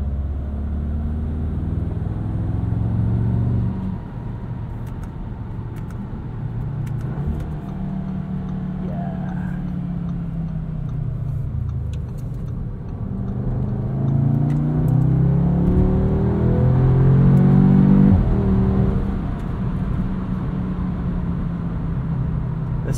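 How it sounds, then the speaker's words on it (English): The 2-liter turbocharged four-cylinder of a 2022 Audi S3 with a seven-speed dual-clutch gearbox revs while driving, its tone rising and falling through several pulls and gear changes, heard from inside the cabin. "It's actually maybe one of my favorite 2-liter turbo sounds on the market."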